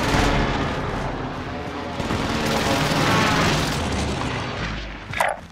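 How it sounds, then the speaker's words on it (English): Heavy booming explosions from an enemy precision airstrike in a video game, a continuous loud roar of blasts and rumble with a sharper burst near the end. "Enemy precision airstrike. Stay alert. Enemy precision airstrike."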